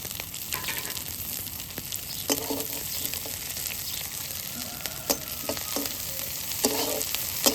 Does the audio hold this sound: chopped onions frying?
yes